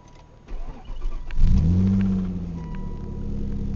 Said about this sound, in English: this is the 97 Ford probe V6 standard transmission, and we're going to start it up and show you that it will run